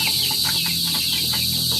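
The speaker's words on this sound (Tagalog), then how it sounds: "Ganyan po kaganda yung mga manok na to." Soft, steady clucking from chickens close by, with a constant high-pitched insect or electrical hum running underneath throughout.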